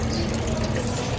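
Water running from a water cooler fills a container in a steady continuous flow, moderately loud and close, with no talking.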